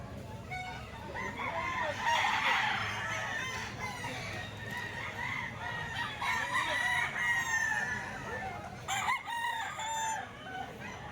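A golden boy sweater gamecock rooster crows in a long, loud drawn-out call, with clucking and other fowl around it, and a voice murmurs faintly in the background.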